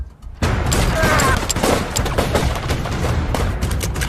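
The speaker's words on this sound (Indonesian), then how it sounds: "terjadi baku tembak di antara mereka semua" Gunfire exchange from an action film: dense, loud bursts of shots and booms crowd together after a brief quiet start, sustained and chaotic with no clear gaps.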